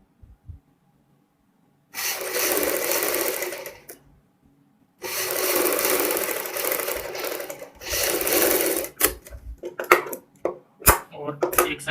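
A sewing machine stitches lace onto a V neckline in bursts of rapid whirring, three sustained runs separated by pauses, followed by short clicks and handling knocks, close and clear.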